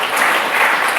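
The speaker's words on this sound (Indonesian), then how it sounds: "boleh berikan tepuk tangan bagi Tuhan" A church congregation bursts into loud, dense applause during a sermon, a brief close wash of clapping hands.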